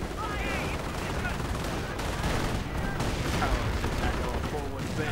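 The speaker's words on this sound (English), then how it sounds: "Charging in into the trenches. Assault rifles blazing." Assault rifles fire steadily in a war video game trench charge, with tank shelling from a Panzer IV and Sherman, a dense, continuous barrage of shots and blasts running unbroken under a commentator's voice.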